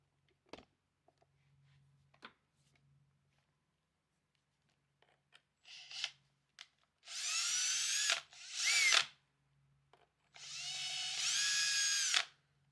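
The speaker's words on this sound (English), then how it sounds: "So I'm going to remove both those screws and then we can pull the rest of this broken bumper out." A power drill backs screws out of the broken rear bumper on an Arrma Granite RC car, sounding as several short whirring bursts. Two longer whines come up close, separated by quiet pauses and small clicks.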